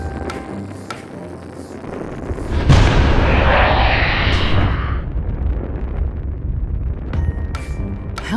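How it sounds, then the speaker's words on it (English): A seemingly empty oil barrel blowing up during welding: a sudden heavy blast cuts through faint background noise, then a loud rushing roar lingers for several seconds before fading, followed by a few sharp clanks. "A seemingly empty oil barrel shouldn't just explode like that, surely?"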